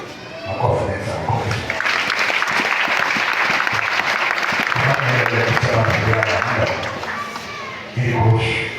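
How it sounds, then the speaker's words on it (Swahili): A church congregation applauds loudly and continuously, with thumps and scattered heavier claps in the mix and talk rising underneath toward the start and end. "Makofi sana."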